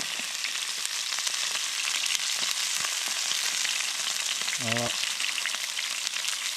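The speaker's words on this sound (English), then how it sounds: "got a nice frying pan there, and a nice sizzle" Ribeye steak sizzling steadily in a frying pan on a Bushbox XL stove while hammock camping in Harwood Forest, a continuous close, dense hiss with crackling pops and a brief clink midway.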